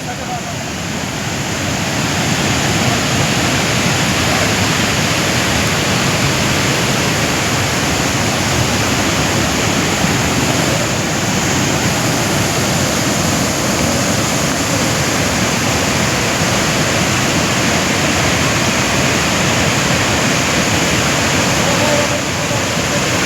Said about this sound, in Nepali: कत्रो चाहिँ भयो है खोला डल्लै यहाँबाट बग्यो होला नि